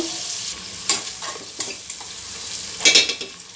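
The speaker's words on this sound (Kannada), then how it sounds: "ನೋಡಿ ಈರುಳ್ಳಿ ಸ್ವಲ್ಪ ಫ್ರೈ ಆಗಬೇಕು" Onions frying in a pan for mutton biryani, a steady hiss of sizzling broken by a few sharp scraping stirs, close and moderately loud with no talking.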